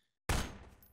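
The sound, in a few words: gunfire in Garry's Mod video game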